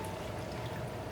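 Sanitized water pours onto a slab in a steady, soft, close stream for about a second, quiet and alone.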